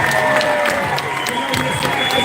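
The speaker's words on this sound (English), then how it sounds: "Give yourselves a round of applause." A crowd claps and cheers close by outdoors outside Customs House, with voices mixed into the steady applause.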